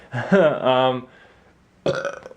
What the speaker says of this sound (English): you ever had a burp when you're really hungry?